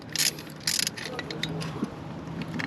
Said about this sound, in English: So there goes the final bolt.